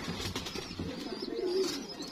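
Salara pigeon, a breeding bird newly paired, cooing in a low soft rolling coo against steady background noise, close by and alone without talk.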